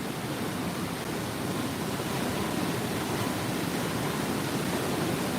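Water rushing and flowing into a ride channel at Universal Orlando's Islands of Adventure theme park, a steady broadband roar like a stream or small waterfall, continuous and fairly close, with no voices over it.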